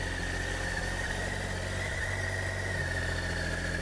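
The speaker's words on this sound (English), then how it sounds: "Hit the run cycle. And hit up our start." A 2018 Triumph Tiger 1200 XRt motorcycle engine idling steadily at close range, a continuous even hum with a faint whine above it and no talk.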